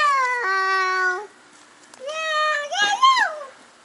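Cats meowing around an old, smelly building in Korea: several drawn-out, tonal meows in two clear bursts with a short pause between them, close and fairly loud.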